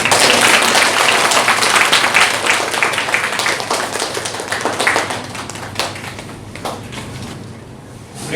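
A church congregation applauds together at a Sunday worship service, dense sustained clapping that carries loud and steady, then gradually thins and softens toward the end.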